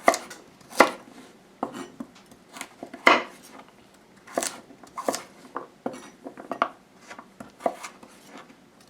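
Knife chopping turnip into large chunky dice on a cutting board for beef stew, a run of sharp, close knocks in an uneven rhythm, some louder strikes among lighter taps, with no talk.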